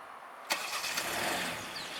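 A Hyundai Sonata starts up, a sharp ignition burst followed by a quiet, steady idle, heard faintly and alone.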